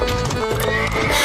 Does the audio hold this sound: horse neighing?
yes